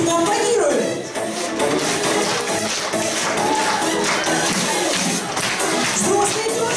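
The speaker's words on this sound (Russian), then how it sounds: "Здесь мы аплодируем!" At a Snow Maiden contest, a crowd applauds and cheers in a dense, loud, sustained wash of clapping and voices that barely dips for nearly seven seconds.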